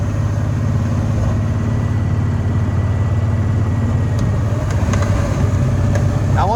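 A Kawasaki Mule 610 XC utility vehicle fitted with a WARN ProVantage plow pushes through packed snow, its engine droning steadily and loud throughout with a low, continuous rumble and faint scraping.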